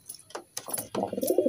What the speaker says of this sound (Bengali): এটা হচ্ছে কালো সবুজের জোড়া গিরিবাজ লাইনের পায়রা